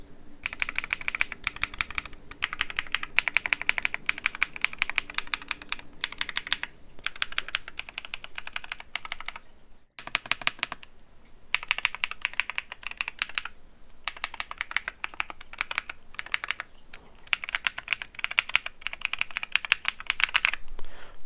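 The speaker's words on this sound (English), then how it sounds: "give you a little ASMR with my R65 with the Akko Creamy Blue V3s" Steady typing on an R65 mechanical keyboard fitted with Akko Creamy Blue V3 switches, dense runs of close, crisp keystrokes broken by a few short pauses, with no talking over it.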